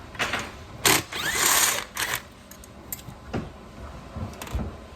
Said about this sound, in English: let's take that screw out